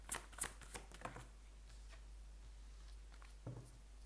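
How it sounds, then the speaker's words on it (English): Tarot cards shuffled and pulled from a deck: a few quick, faint papery flicks and snaps at the start, then near silence, with one more soft slide of cards near the end, quiet and close. "I'm just pulling the cards out first."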